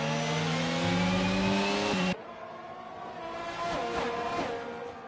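F1 race car engines in the F1 22 video game, a McLaren battling on a straight at the Spain circuit: a loud, rising harmonic engine wail cuts off abruptly after two seconds, then a quieter, thinner engine whine with shifting pitch continues.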